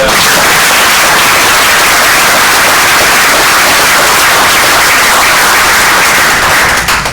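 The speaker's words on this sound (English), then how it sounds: "Let's all clap for her." Loud, dense applause from a recovery support group, sustained throughout with no pause.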